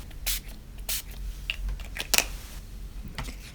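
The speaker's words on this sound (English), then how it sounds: "And I'm going to spray this on my mat" Several short hissing sprays of ink from a spray bottle onto a craft mat burst out one after another at close range, with faint handling clicks and rustles in between.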